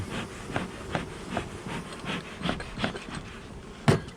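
A steady insect buzz with many honeybees droning close by at a hive, pulsing softly in and out, with a brief knock near the end.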